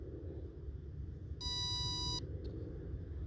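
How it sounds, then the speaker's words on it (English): An old RC electronic speed controller gives a single clear electronic chime tone lasting under a second as the battery is plugged in through a standard EC3 connector, over a faint low background rumble. "The speed controller should chime."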